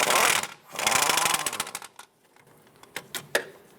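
Ratchet with an extension and 13mm socket working a strut bolt loose on a 2007-2012 Nissan Versa, giving fast clicking bursts close up, then a few scattered clicks and taps.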